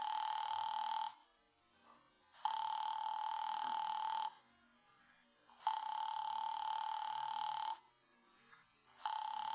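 Telephone ringing unanswered as a radio drama sound effect, four steady electronic ring bursts of about two seconds each with short gaps between, fairly loud and with no voices over it.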